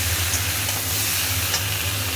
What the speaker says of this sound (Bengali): আদা দিয়ে দিয়েছি, এবার ভালো করে একটু কষিয়ে নিই।